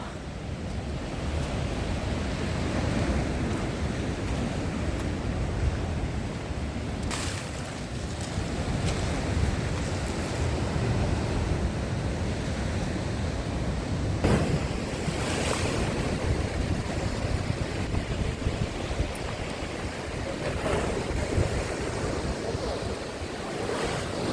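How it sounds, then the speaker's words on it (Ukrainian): Stormy Black Sea surf at Odesa crashes in continuous, loud broadband roar with several heavier breaking waves, wind buffeting the microphone throughout and no voices. "І хвиля аж отак."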